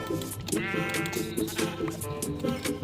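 Sheep bleats from the video game Minecraft, Bedrock edition, sounding as several clear, repeated wavering cries one after another with no talking over them.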